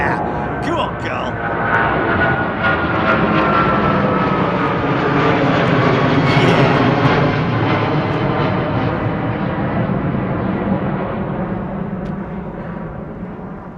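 Airbus A380 with Rolls-Royce engines taking off from Heathrow, a loud sustained roar that swells and slowly fades over the whole stretch, with brief talk near the start.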